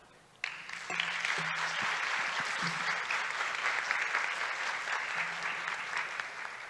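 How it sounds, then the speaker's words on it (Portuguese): Applause from a gathered audience at the end of a talk, starting abruptly and continuing as a steady, fairly distant wash with some nearby individual claps. "palmas para ela"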